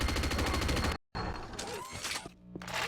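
Rapid bursts of weapon fire in a Quake-style arena shooter duel, a dense rattling volley that cuts out briefly, then scattered shots and impacts resume over game sounds.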